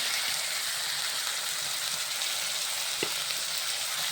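Ground spice paste with turmeric sautés in a pan for fish curry, making a steady, close sizzle throughout, with a single soft knock partway through and no voices.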